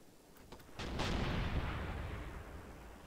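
WW2 artillery in Graviteam Tactics firing rapid volleys at range, distant thuds that build into a heavy, rolling boom that slowly fades.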